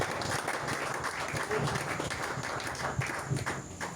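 A congregation at a French-language Christian worship service applauds to acclaim Jesus, with dense, steady clapping that fills the room throughout.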